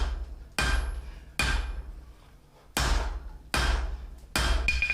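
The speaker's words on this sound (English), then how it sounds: "I hate the sound the horn on this anvil makes" A hammer rings sharply on the horn of a blacksmith's anvil while forging bent knee tongs from sucker rod scrap: five loud, close metallic strikes, each with a bright lingering ring, spaced unevenly with a longer pause in the middle.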